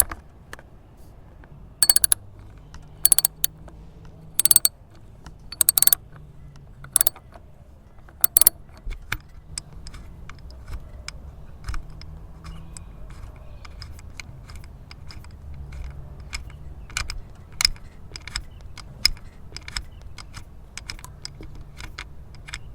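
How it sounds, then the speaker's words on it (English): Socket wrench with a 10mm hex socket loosening the bolts that hold a car's ignition coils, heard as sharp metallic clicks and clinks spread irregularly over a quiet background, denser early then sparser and fainter. "So I'm just going to unscrew those bolts."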